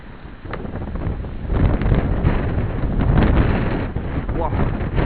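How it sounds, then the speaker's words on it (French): Strong gusts of wind roar across the microphone during a summer thunderstorm, a continuous loud buffeting rush that swells and eases in waves without pause. "Coup de vent."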